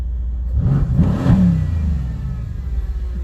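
A car engine revving in neutral, climbing in one quick throttle blip from idle, rising and falling within about a second, then settling back to a rumbling idle up close.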